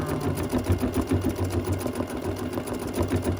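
An embroidery machine stitches a needle organizer in the hoop, making a close, steady, rapid mechanical whirring and chattering that continues without pause.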